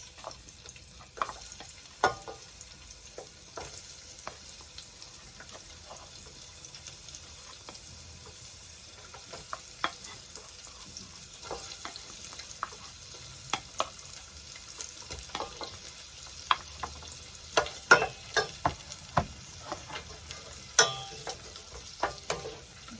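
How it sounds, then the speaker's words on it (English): Onions go into oil left over from frying fish for a quick sauce, a soft background sizzle punctuated by scattered sharp clicks and scrapes of utensils, growing busier toward the end. "I'm gonna put in the onions."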